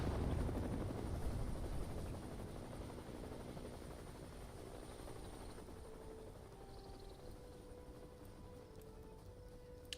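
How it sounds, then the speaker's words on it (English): A helicopter roars in a video game, its loud engine and rotor drone filling the scene and fading slightly over about ten seconds, with no talking. "I lost 2 men to a helicopter strike."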